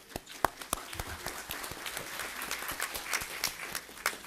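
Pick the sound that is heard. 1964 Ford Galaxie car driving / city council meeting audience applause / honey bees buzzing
city council meeting audience applause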